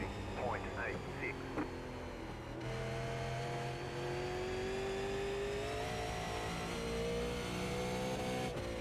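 Super Late Model race cars at Nashville Fairgrounds Speedway in iRacing, a continuous engine drone with shifting pitch as cars run steadily around the track, moderately loud, with a voice talking over it.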